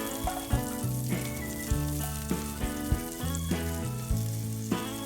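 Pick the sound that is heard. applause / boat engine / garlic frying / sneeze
garlic frying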